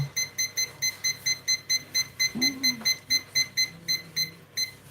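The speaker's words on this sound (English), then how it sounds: "Let's set our alarm." A kitchen timer alarm set while baking cupcakes beeps in a steady rapid rhythm of short, bright tones throughout, fairly close and loud, with a brief low voice sound partway through.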